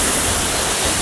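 A Himalayan waterfall in Kashmir roars as a loud, steady, broadband rush of falling water, close and continuous, with no voices.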